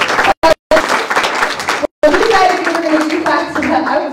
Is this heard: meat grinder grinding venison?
no